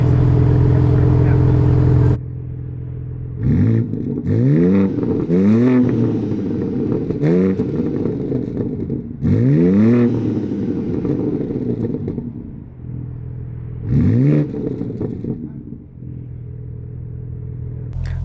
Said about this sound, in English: we do a quick exhaust sound check.